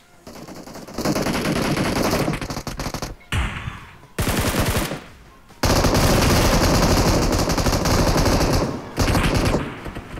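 Long sustained bursts of automatic gunfire in the BGMI battle royale game, loud and continuous with brief pauses between sprays, the last burst cutting off near the end.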